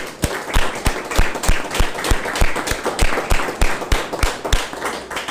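An audience claps together in a warm, sustained round of applause with a steady rhythmic beat running through it.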